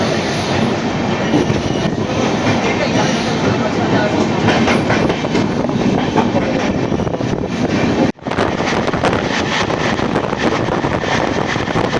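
An AC train, the 12369 Kumbh Express from Kolkata to Haridwar, rumbles steadily along the tracks, loud and continuous, with a short dip in the noise before the roar resumes.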